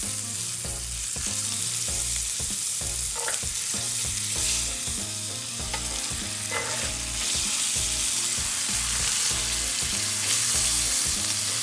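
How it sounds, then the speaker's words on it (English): Ribeye steak sizzles loudly and continuously in a hot pan, a dense crackling hiss with small pops and clinks, no voices. "Let it continue to sizzle."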